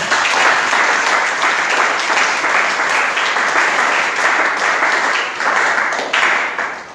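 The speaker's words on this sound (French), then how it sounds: "Acclame le Seigneur cette fois" A church congregation breaking into loud, sustained applause, dense clapping from many hands filling the room and continuing steadily throughout.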